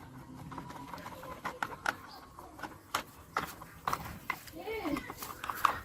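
Screwdriver turning small screws into a plastic toy police car, giving a series of sharp close clicks and ticks at an irregular pace, with faint voice sounds in the background.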